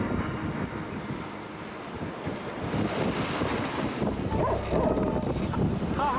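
Wind roars and waves wash around a sailboat crossing the Atlantic amid rain squalls, a continuous loud rushing with buffeting gusts against the microphone and churning water throughout.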